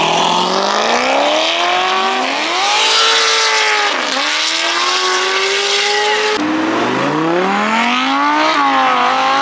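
A car doing a burnout at the Pistons at the Park car show: a loud, continuous engine roar with revs that repeatedly climb and drop, and tire squeal running throughout.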